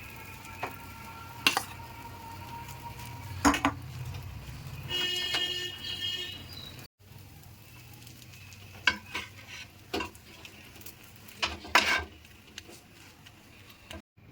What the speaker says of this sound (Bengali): তেল দিচ্ছি একটু ধোসার পুরটা দিচ্ছি